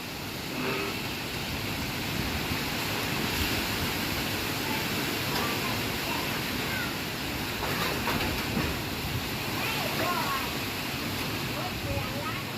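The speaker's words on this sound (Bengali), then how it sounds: "যদি কেউ এই একবার বাতাসগুলা দেখে তাহলে বুঝতে পারবে একটা মানুষের কলজা জুড়ানো বাতাস" Strong wind roars in a steady, broad rush outdoors among coconut and jackfruit trees, continuous and close for the whole stretch.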